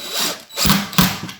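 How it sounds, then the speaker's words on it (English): Screws being driven into a kitchen drawer during a cabinet build, two or three short close whirring bursts with mechanical clicks, no talking. "Pop in our 4 screws."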